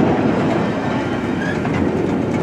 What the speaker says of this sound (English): This guy's got a long train.